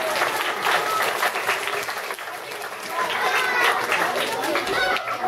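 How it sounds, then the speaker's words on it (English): Audience applause at a live reptile show, sustained clapping from a crowd with chatter and scattered voices underneath, dipping briefly in the middle before swelling again. "Give her a big round of applause."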